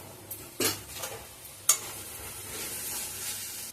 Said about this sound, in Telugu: ఉల్లిపాయలు కాస్త వేగాక ఇప్పుడు ఇందులో మనం కొద్దిగా అల్లం వెల్లుల్లి పేస్ట్, కొద్దిగా కారం, ఇలాగే కొద్దిగా పసుపు కూడా యాడ్ చేసుకొని ఒకసారి కలుపుకోవాలి